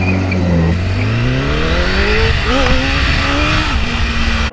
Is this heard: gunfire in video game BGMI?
no